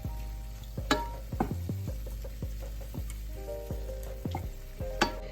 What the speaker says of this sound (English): you start stirring your meat so it can brown evenly